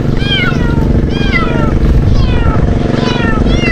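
A large cat caught by a river meows repeatedly and loudly up close, about four drawn-out, wavering cries spaced across the moment over a steady background rumble.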